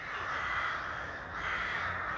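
Crows caw from the trees on the grounds of Killerton House in Devon in winter, a harsh, steady chorus of calls that carries on without a break and with no talking.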